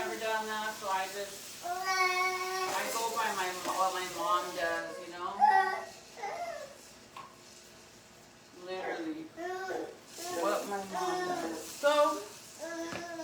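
A baby babbles and coos intermittently in the background, soft and somewhat distant, with short vocal bursts and pauses.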